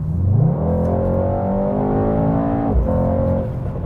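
A Mercedes-AMG GT 63 S four-door's biturbo engine revs hard and close, its deep roar climbing and settling through rising gear-like pitches, loud and continuous with no speech.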